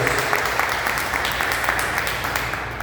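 Steady, full applause from a church congregation praising Jesus, many hands clapping together in a dense wash that holds evenly, easing slightly toward the end.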